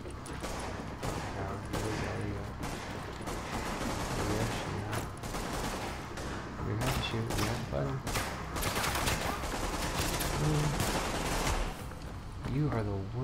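Gunfire in The Division, a dense continuous barrage of rapid automatic shots and bursts, loud and close, with occasional voices under the shooting.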